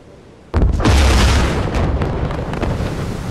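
Torpedo hits exploding on ships in the submarine game Silent Hunter 4, a sudden heavy boom after a short quiet, followed by a rumbling, crackling roar that slowly fades but stays loud.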